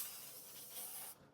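Non-stick cooking spray gives one soft, steady hiss for about a second and then cuts off, faint and close, with no other sound.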